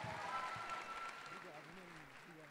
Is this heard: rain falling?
no